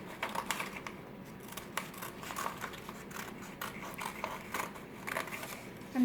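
Scissors snipping through paper to cut out orange turkey feathers for a Thanksgiving craft, a run of close, crisp cuts and crinkles repeating steadily, with no talking.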